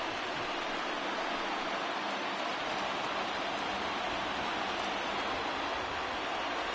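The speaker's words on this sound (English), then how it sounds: "the rain starting to intensify here. It's coming down a little heavier now." Rain falls steadily in the MLB The Show baseball video game, a constant dense hiss of heavy rain filling the scene, even and unbroken throughout, with no commentary over it.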